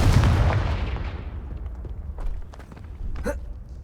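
Confringo blasting curse from Hogwarts Legacy on PC, a loud booming explosion up front that decays into a rumbling tail, with a few scattered crackles and pops after it, no speech.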